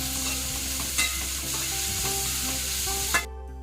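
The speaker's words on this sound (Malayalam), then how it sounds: "നന്നായിട്ട് വഴറ്റിയെടുക്കാം കേട്ടോ" Shallots sautéing in a pan for a crab and tapioca dish give a loud, continuous sizzle, with a couple of sharp stirring clanks before the frying cuts off abruptly; no talking.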